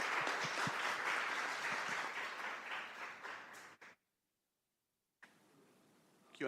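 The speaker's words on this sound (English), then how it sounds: "Let me ask the audience to give a round of applause to our panelists" An audience applauds panelists at an education technology event in Egypt, a dense wash of clapping that fades out, breaks into full silence, then swells back briefly near the end.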